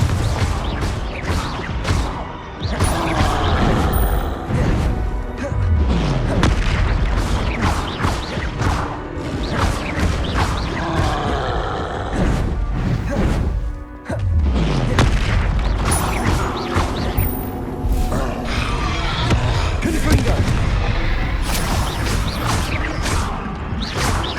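Confringo blasting spell explosions in Hogwarts Legacy boom again and again across a loud, dense combat scene, heavy thuds, crashes and whooshes piling up almost continuously with two brief lulls.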